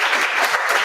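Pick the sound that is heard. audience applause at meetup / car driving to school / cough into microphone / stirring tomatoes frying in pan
audience applause at meetup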